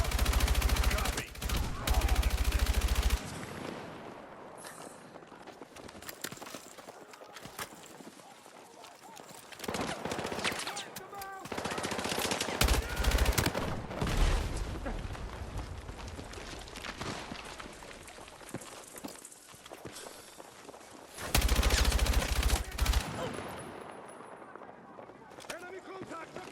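Gunfire in the Battlefield 6 campaign: repeated bursts of automatic fire and single shots crackle loudly in clusters, with shouted voices and movement sounds in between.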